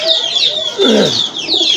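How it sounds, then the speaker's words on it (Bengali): Active female pigeons kept among fancy breeds: soft cooing mixed with higher chirping calls, close and fairly loud, in short overlapping phrases. "এগুলা খুবই ছটফটা অ্যাক্টিভ কবুতর"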